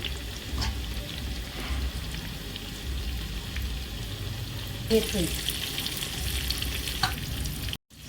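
Onions fry for veg biryani, a continuous close crackle and sizzle with occasional scrapes and taps from stirring, ending in a brief break.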